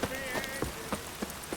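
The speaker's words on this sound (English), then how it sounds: "Rain, I like rain." Rain falls steadily in The Witcher 3, a soft continuous patter with faint periodic thuds like hoofbeats beneath it, heard at low level.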